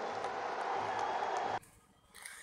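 Rally crowd applauding in response to a political speech, with broad, steady clapping that cuts off abruptly partway through and leaves a low murmur behind.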